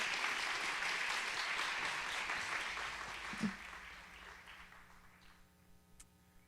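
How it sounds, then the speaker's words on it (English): An audience gives a round of applause for a speaker at a morning gathering, starting as a dense, steady wash of clapping that gradually thins out and fades. "let's give Caroline a round of applause and thank her for sharing."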